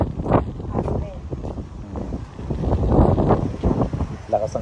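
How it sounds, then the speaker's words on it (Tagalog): Strong wind gusts buffet the microphone outdoors at a model-unit house in a Bulacan subdivision, a loud broadband rush that swells and eases under a person talking. "Lakas ang hangin."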